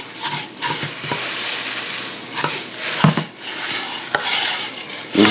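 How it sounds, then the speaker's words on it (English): Rice Krispies being stirred into sticky melted marshmallow in a pot, with loud crackly crunching and scraping strokes that come in uneven bursts, close up and with no talking. "This is the part where you're going to need something good and sturdy to stir with, because it will get pretty hard to stir."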